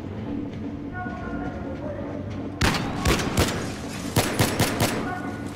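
Bursts of gunfire from the video game Battlefield 3 erupt after a quieter ambient stretch, with several sharp, loud shots in quick clusters over a low background rumble.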